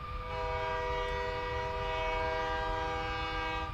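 A very long high-speed train in Train Simulator 2015 runs steadily with a loud sustained horn-like tonal drone over a rumbling rail roar, continuous throughout with no talk.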